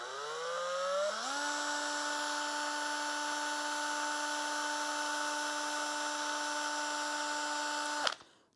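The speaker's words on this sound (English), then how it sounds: "So I put this in my drill chuck just to see if it spins true." A worn valve from a Porsche 911 Carrera engine spins in a power drill chuck: a whine rises briefly as the drill spins up, holds a steady high pitch for several seconds, then cuts off abruptly.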